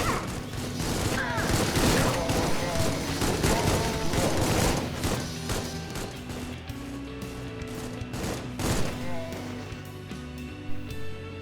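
Rapid bursts of enemy hit-scan gunfire in the Supplice video game crackle over a busy, dense backdrop of game noise, with sharp cracks scattered throughout and no clear talk.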